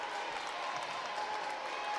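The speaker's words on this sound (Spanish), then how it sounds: "Toda la gente lo aplaude" Steady crowd applause fills a youth under-13 basketball final between Litoral and Echagüe, a dense, even patter of clapping from the home crowd with no breaks across the stretch.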